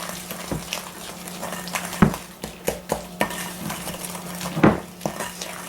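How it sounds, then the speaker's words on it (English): A spoon beats eggs into Amish sugar cookie dough in a bowl, giving soft stirring scrapes with a few sharper clinks against the bowl's side, spaced irregularly and heard close up without talk. "I pretty well just use a spoon to mix the rest of the ingredients in. Alright, get those eggs beat in there."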